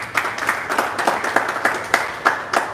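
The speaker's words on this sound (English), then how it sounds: "Let's clap for her." An audience at a network marketing event claps for a platinum global leader: moderate, fairly sparse clapping with individual hand claps clearly audible in an uneven rhythm, alone without talk.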